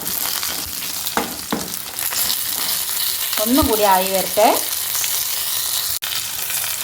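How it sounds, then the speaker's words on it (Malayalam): Food frying in coconut oil sizzles close by with stirring scrapes and rattles of a spoon against the pan, while a voice speaks briefly over the crackle. "ഒരു അര ടേബിൾ സ്പൂൺ വെളിച്ചെണ്ണയിൽ വേണം വറുത്തെടുക്കാൻ"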